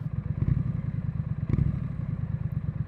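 A Triumph Scrambler 900 with a 270-degree parallel-twin engine idles close by, a loud, lumpy, uneven thrumming beat with a couple of brief clattering blips.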